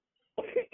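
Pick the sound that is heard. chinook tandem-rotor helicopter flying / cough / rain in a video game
cough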